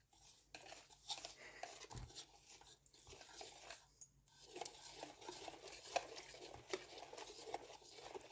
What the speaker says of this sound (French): Et on mélange jusqu'à avoir un liquide.